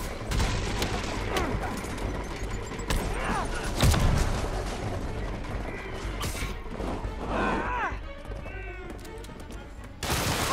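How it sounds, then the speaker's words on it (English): Enemy gunfire in Marvel's Spider-Man game, rapid bursts of close shots and crashes scattered across the clip amid chaotic game effects, with a loud impact near the middle. "Damn these bullet shots."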